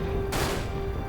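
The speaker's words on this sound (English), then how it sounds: "He's shooting through the gaps!" Enemy gunfire in the Dirge of Cerberus: Final Fantasy VII video game: a sudden loud burst of shots that cuts in after a low rumbling hum, then trails off over about a second.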